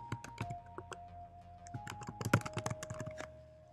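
Someone types a search on a computer keyboard: a quick, irregular burst of crisp key clicks, close and clear over a faint steady background hum.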